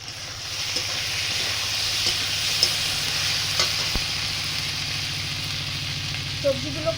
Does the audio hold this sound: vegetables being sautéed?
yes